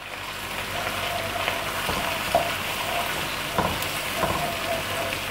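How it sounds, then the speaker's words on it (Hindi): Garlic and ginger frying in oil for a degi-style chicken qorma, a steady close sizzle with soft crackles and a few light stirring clinks throughout. "ये दोनों चीज़ें डालने के बाद हम इनको थोड़ा सा फ्राई करेंगे कि लहसुन और अदरक का जो कच्चापन है वो ख़त्म हो जाए।"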